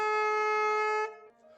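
A tenor saxophone sustains a single steady high B for about a second, rich in overtones and alone, then cuts off into faint room sound.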